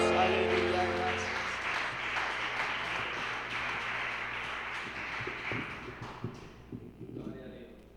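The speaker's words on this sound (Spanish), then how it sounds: "Denle un fuerte aplauso a Jesús" A church congregation at a Sunday service breaking into sustained applause, a dense wash of clapping that gradually fades, with a voice speaking over it and tonal music at the start.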